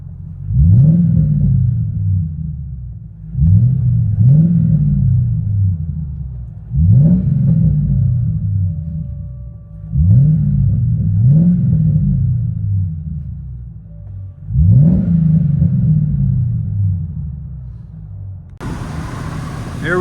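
A deep, rumbling 2006 Mercury Grand Marquis 4.6L V8 with Vibrant H-pipe true dual exhaust, heard from inside the car, revved repeatedly in steady bursts roughly every three seconds, loud and close.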